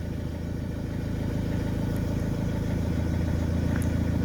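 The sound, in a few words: Vauxhall Movano van engine running at idle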